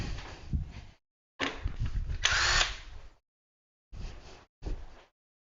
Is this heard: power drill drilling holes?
yes